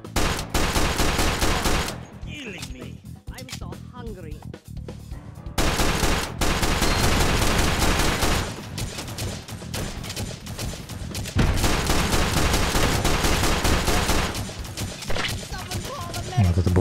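Dense bursts of gunfire and rapid automatic turret shooting in the VR shooter H3VR, loud and nearly continuous, with a few brief lulls and layered shots and impacts throughout.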